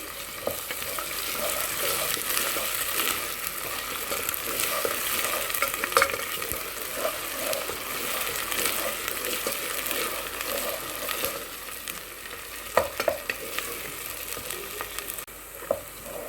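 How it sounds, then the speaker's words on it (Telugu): Ginger garlic paste frying and being stirred in a pan while making chole masala, a steady busy sizzle with scraping stir strokes throughout, no talking. "ఇప్పుడు అల్లం వెల్లుల్లి పేస్ట్ వేసేద్దాం ఇది పచ్చివాసన పోయేదాకా బాగా ఎంచండి"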